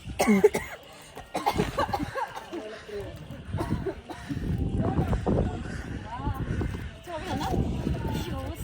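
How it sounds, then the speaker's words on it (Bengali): Harsh, repeated coughing on a cold, windy hillside at a mountain homestay, several bursts close by mixed with talking and a little laughter. "আমার আর আমার বড় তো প্রচুর কাশি"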